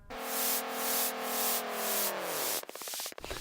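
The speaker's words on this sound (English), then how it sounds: "When you Google teleportation sound effects" A swooping teleportation sound effect starts as a sustained shimmering tone that bends downward, pulsing rhythmically, then breaks into rapid warbling bursts near the end, loud and alone without talk.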